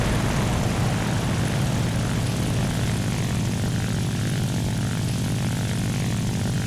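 The XP-55 Ascender propeller fighter in War Thunder drones with a steady, loud, close engine and propeller roar that holds constant throughout, with no voices.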